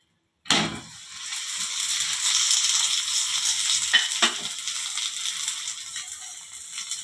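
A sweet frying in oil in a pan bursts into a loud, steady sizzle that continues throughout, broken by a couple of brief knocks partway through.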